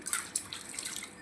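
Running water from a tap splashing over dishes as they are scrubbed clean in a kitchen sink, a short steady rush with small clinks and splashes, no voices.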